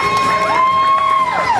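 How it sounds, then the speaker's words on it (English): Audience at a cosplay contest during Nisei Week 2011 applauding and cheering a judge's introduction, a loud crowd roar with whoops and a steady tone running through it. "Round of applause, please."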